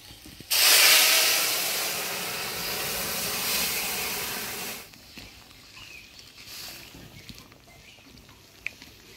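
Boiled lentils hit hot oil spiced with dried chillies, panch phoron, bay leaf and crushed ginger, letting out a loud, steady hissing sizzle for about four seconds before it drops to a quiet simmer with faint kitchen clatter.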